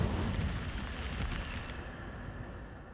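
Incendio fire spell cast in the video game Hogwarts Legacy, a broad roaring whoosh of flame that is dense at first and slowly thins out over a few seconds, fairly quiet overall.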